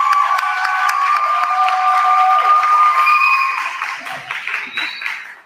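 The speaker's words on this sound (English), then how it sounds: "Once again, a round of applause for." An audience at a live GenerAction Jam event claps and cheers in a loud, sustained burst with whoops and shouts, then thins and fades toward the end.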